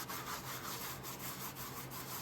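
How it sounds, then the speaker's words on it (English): Stencil letters being sanded by hand, likely with 600-grit paper, making a steady close scratchy rubbing with rapid repeated back-and-forth strokes throughout. "I'm just sanding the letters, you guys."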